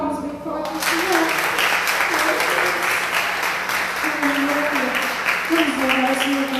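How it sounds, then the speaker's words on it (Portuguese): A strong round of applause fills a church congregation, steady and loud from start to finish, with a sustained roar of many hands and no talk over it. "Tem uma salva de palmas bem forte, Senhor."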